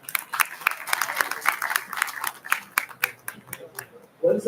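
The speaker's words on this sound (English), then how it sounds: "give them a huge round of applause" Audience applause for alumni speakers at a college industry alumni meet, scattered claps that build and fade unevenly, moderately near, with some voices mixed in.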